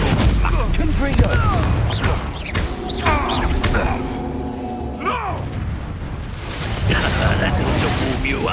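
Confringo fire spell blasts in Hogwarts Legacy: repeated loud explosive booms and crashes amid magical whooshes and combat clatter, busy and close, with voices shouting in between.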